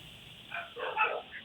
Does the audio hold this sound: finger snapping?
no